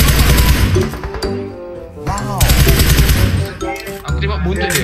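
Gunfire in PUBG on the Sanhok map crackles in rapid bursts amid layered game sounds and voices, close and loud throughout.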